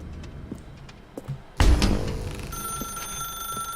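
A telephone rings in The Stanley Parable Ultra Deluxe, a sudden loud electronic trill that cuts in partway through after quiet room tone and keeps ringing with a steady tone to the end.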